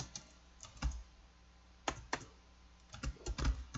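Sparse keystrokes on a computer keyboard while accounting data is entered, scattered taps clustered around one, two and three and a half seconds, fairly quiet with no talking.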